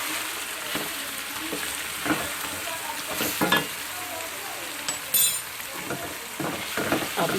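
Chicken kadhi sizzling in a pan as chilli and salt are stirred in, with steady frying hiss and intermittent scraping stirs of the spoon against the pan, close and continuous.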